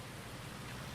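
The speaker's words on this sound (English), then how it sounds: "3:47 and it's still raining." Steady rain falls in Farming Simulator 19, a dense, even hiss of drops on surfaces with no voices, faint and unbroken throughout.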